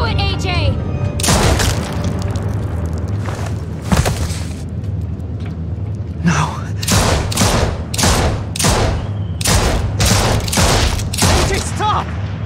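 Bomb blast in The Walking Dead: The Final Season video game, loud booming bursts followed by a run of heavy crackling detonations, with voices mixed in.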